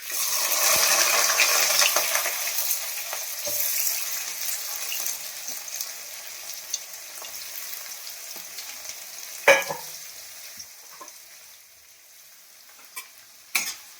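Onions sizzle in a pan for chicken soup while being stirred, a busy close frying hiss with occasional scraping clinks, fading somewhat toward the end.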